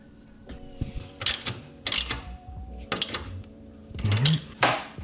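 Small M6 zinc-coated bolts are fitted and turned with hand tools on a Harley Road King motorcycle, giving a few close, sharp metallic clicks and ratcheting bursts separated by short pauses.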